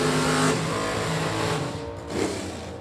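A red and white first-generation Camaro automatic roars loudly in a sustained, close engine blast at a Super Stock drag race, with a slight surge near the end.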